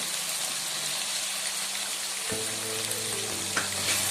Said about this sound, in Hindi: इन सभी सब्जियों को हम तेल में अच्छी तरह से फ्राई होने के लिए रखेंगे